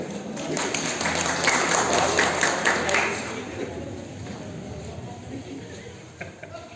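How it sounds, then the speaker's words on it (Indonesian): An audience at a parish gathering applauds, with busy clapping filling the first few seconds before it fades under a murmuring voice and room noise. "Tepuk tangan berdorong."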